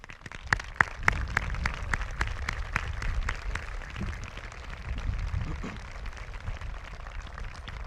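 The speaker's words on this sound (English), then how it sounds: "give all of our supporters a big round of applause" Graduation crowd applauding, with sharp individual claps close by at the start blending into a broad, sustained wash of clapping from a large audience, steady throughout.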